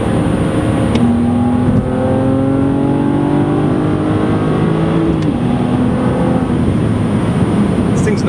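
A 2007 BMW Z4 3.0si Coupe accelerates hard through the gears, its engine note climbing steadily with shifts, heard from inside the car under a constant loud drone.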